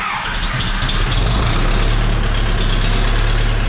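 An Ursus C360 tractor engine starts from cold and settles into a loud, steady diesel idle with a knocking, vibrating rumble that runs without break to the end, with no talking.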